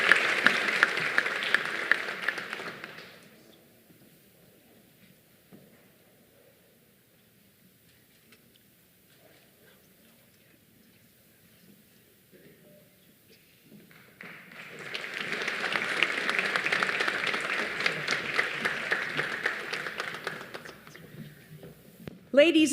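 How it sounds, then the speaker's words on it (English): Audience applause for the 2022 Golden Herald Honorable Mention Award winners fills a hall in two bursts, a few seconds at the start and a longer swell in the second half, with a quiet stretch of low murmur between. "please give another round of applause to this year's Golden Herald Honorable Mention Award winners"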